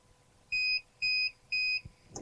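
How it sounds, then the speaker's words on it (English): Three evenly spaced electronic beeps from an SMA Sunny Island inverter, each a clean steady tone of about a quarter second, clear and alone in a quiet room. "until you get the 3 beeps."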